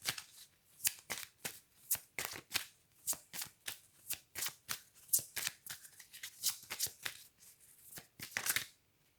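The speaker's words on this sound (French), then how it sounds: "Alors, on tire une dernière carte." Tarot cards are shuffled and drawn in quick, crisp riffling bursts, a close and fairly quiet series of papery flicks and snaps in an irregular rhythm with no talk over them.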